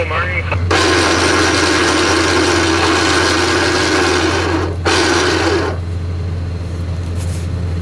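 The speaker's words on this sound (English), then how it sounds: "With the thumb switch, we're going to take up the slack" An electric trailer winch runs steadily for several seconds to take up slack on an airboat trailer, pauses briefly and runs again. A constant low hum sits underneath, and the motor noise is loud and close.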